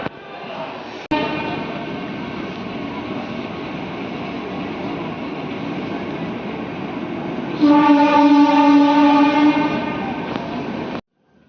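The 12230 Lucknow Mail pulls out of Alamnagar station with a steady rumble of wheels and carriages, then a loud, sustained horn blast near the end before the sound cuts off.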